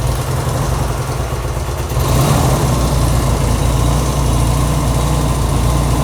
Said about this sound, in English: we're trying to get the bike to idle